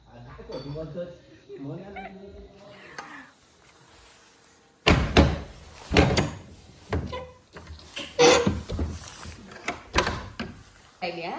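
Loud wooden door knocks and bangs as a door is closed, several sharp thuds in quick succession after a stretch of talking, with voices continuing between the impacts.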